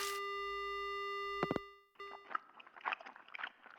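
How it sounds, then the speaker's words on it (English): A steady telephone dial tone hums in the horror game Death Mark, then cuts off abruptly; after a brief pause, crunching and rustling noises follow. "The only sound I hear is the dial tone."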